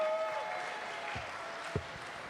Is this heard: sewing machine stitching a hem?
no